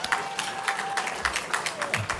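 Applause from an audience at a political party dinner, steady rhythmic clapping that carries throughout with faint crowd murmur.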